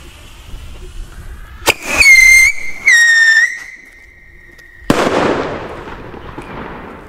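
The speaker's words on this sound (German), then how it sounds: "Jetzt gibt es eine richtig laute Rakete, die kreischt und einen fetten Knall." A firework rocket lets out a loud, shrieking whistle in two bursts, then a sharp bang followed by a fading crackling rumble.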